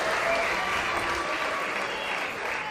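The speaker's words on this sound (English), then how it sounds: "round of applause." A steady round of crowd applause fills the hall at a men's singles quarterfinal table tennis match, strong and continuous with a voice faintly underneath.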